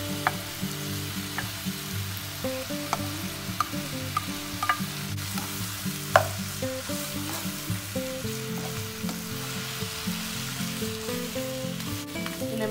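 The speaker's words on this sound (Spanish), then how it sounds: "Lo movemos hasta que esté todo bien mezclado y dejarlo que se cocine un poco" Chopped tomato and onion sizzle in a pan while a spoon stirs them, scraping and clicking at irregular intervals over a continuous, moderate frying hiss, with no voices.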